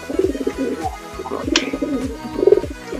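Female pigeon cooing in a loft, repeated soft, throaty coos in a steady rhythm close by, with a brief higher chirp; wing flapping is not distinct.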